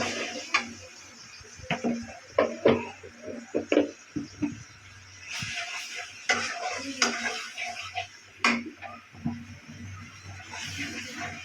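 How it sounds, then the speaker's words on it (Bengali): Ginger and garlic paste frying in a pan, with soft sizzling under irregular spoon clinks and scrapes against the pan, fairly quiet and close. "তো আদা রসুন দিয়ে দিচ্ছে, একটু ভাজে নেবে।"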